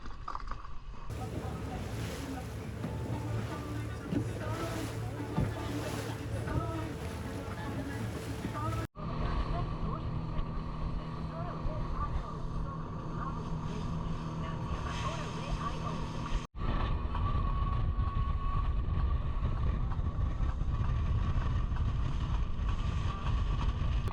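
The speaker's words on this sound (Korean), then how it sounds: "이제 마지막으로 이 보트 타고 스플리트로 다시 돌아갑니다." A tour boat carries passengers back to Split, Croatia, at the end of an island tour. A steady, loud engine rumble runs throughout, with heavy wind buffeting the microphone.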